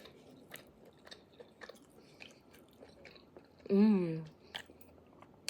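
Someone chews a bite of Peruvian food close to the mic, with soft wet crunching and biting sounds, and a brief voiced murmur partway through.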